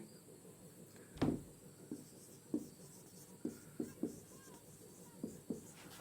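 Pen or chalk writing out notes during a Class 12 physics lesson on current electricity, heard as scattered short scratchy strokes at moderate distance against a quiet, faintly hissing room.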